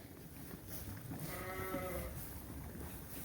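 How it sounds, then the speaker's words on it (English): A single ewe bleats once on a farm at evening chore time, a wavering cry standing out over a low background rumble of wind and machinery. "Just looking if all the ewes are okay."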